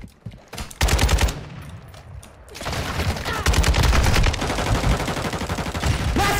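Gunfire from the video game Modern Warfare 2, with a weapon set to semi-automatic, comes as loud, dense bursts of shots with dramatic, chaotic overlapping reports, briefly pausing before resuming in sustained rapid volleys.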